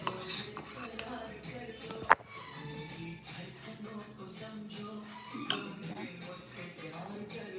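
Spoon stirring homemade vegan pizza sauce with jalapeno in a bowl, clinking and scraping with a couple of sharper knocks, close and moderately loud.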